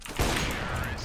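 Pistol fire in CS:GO: a short, loud burst of rapid gunshots close up, with people talking over it.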